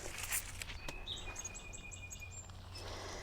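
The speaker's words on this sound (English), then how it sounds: "I'm hearing the birds." Faint high chirps and tweets of birds scattered through steady background noise, distant and intermittent, outdoors among garden shrubs.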